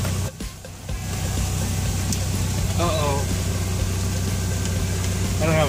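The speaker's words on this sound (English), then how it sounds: "So now I gotta start the generator" An RV generator runs with a steady, low, close hum that starts after a brief quieter moment, while people talk over it.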